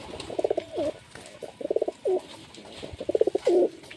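A standing pigeon coos close by in three repeated phrases, each a quick burst of throaty pulses ending in a drawn-out rolling coo, with soft background noise and no talking.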